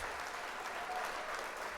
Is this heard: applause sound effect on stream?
yes